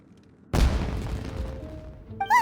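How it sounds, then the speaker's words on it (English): A sudden loud firework-like explosion bursts out in the Genshin Impact video game, followed by a long crackling, rumbling decay, with a brief tonal effect sounding near the end. "Was that an explosion? It sounded like fireworks."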